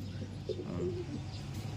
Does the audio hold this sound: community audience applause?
no